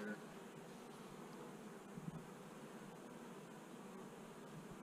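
Honeybees in an opened topbar hive keep up a dense, steady buzzing hum, close and even throughout, with a faint brief knock partway through.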